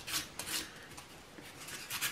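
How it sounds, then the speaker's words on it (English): Sandpaper rubbing over a small morel mushroom carved from antler, close soft rasping strokes in short bursts with quiet gaps between them. "You can go all over this thing and sand it real good."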